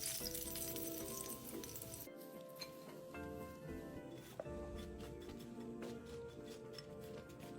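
Anchovies deep-frying in hot oil over medium heat, a dense continuous sizzle with occasional clinks and stirring scrapes of a utensil, close and steady throughout.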